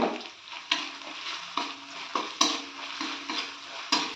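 Onion, garlic and ginger paste fries in a pan for an egg curry, with a steady sizzle broken by regular scraping stirs of a spoon against the pan, about one every second.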